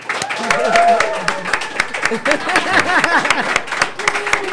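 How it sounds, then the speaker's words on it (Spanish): A studio audience claps to welcome the guest Rocky the Kid on a Spanish-language TV show, a scattered ripple of applause heard under a louder voice talking over it. "quiero que ustedes me acompañen a recibir con un aplauso brutal a Rocky de Kid"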